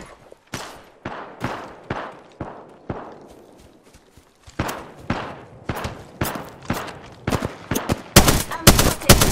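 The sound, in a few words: gunfire in the video game Apex Legends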